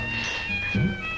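A cat meows briefly amid a busy comedy scene from a Tamil film, with a steady tonal hum and background noise running throughout.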